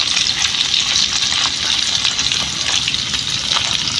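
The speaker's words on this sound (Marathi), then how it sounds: "आणि या साईडला तळायला ठेवलेले आहे जिलेबी" Skinned tilapia pieces coated in semolina fry on a flat pan with a continuous bright sizzle of hot oil, close and steady, with no talking.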